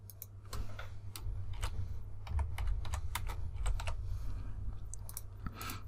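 Computer keyboard keys tapped in a quick irregular burst of crisp clicks, close and clear, over a steady low hum, while retouching in Photoshop.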